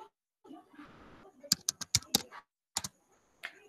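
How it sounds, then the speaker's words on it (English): Typing on a computer keyboard comes as a quick burst of crisp, close key clicks, then two more isolated taps, after a moment of soft background voice. "I will type transparent."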